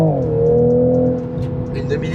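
A Toyota Supra Mk5 fitted with a half-line exhaust revs loudly, its engine tone rising and holding, then easing off as voices talk over the tail end.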